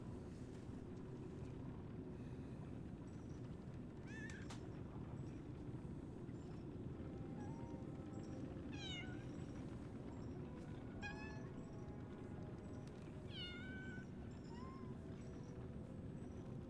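A cat in the video game Lies of P meows several times, short rising mewls spaced a few seconds apart, heard faintly over a low steady wind-like ambient drone.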